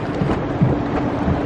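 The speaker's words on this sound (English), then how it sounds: "Those waves are high coming in there." High surf waves break on a beach in a continuous dull roar of churning water, with wind buffeting the microphone.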